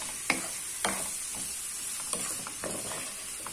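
Onions frying in oil in a pan, an early step toward an aubergine and chicken gratin, give a steady sizzle broken by several sharp clacks and scrapes of stirring, fairly close and with no voices.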